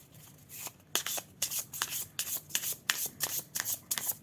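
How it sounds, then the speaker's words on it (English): Tarot cards being shuffled by hand in a run of crisp, riffling bursts, roughly a dozen quick papery flicks in a steady rhythm, close and fairly loud with no talking. "I'll just shuffle them"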